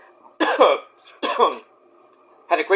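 Three separate harsh coughing bursts, close and fairly loud, with short silent pauses between them.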